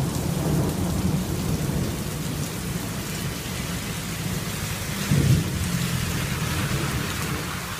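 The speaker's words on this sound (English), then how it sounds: "God, I just love the sound of thunder, don't you?" Deep thunder rolls twice, low and heavy, during a thunderstorm, over a steady hiss of rain falling on surfaces; no voices are heard.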